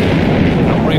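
A loud enemy ship explosion in the space shooter Space Encounter, one dense, rumbling burst that fills the short moment with a sustained roar.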